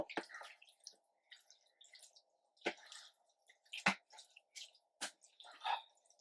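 Half a tin of beans mixed through a cottage pie base, wet squelching stirs and scraping spoon strokes in irregular bursts, close and fairly quiet with a low hum between.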